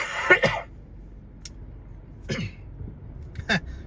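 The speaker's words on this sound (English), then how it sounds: "Excuse me while I cough a minute." Several rough coughs and throat clears in wildfire smoke, in separate bursts with quiet pauses between, close and moderately loud.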